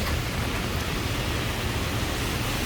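Heavy rain pouring down on a New York City street during a storm, a steady dense hiss throughout with no pauses, loud and close, with no voices.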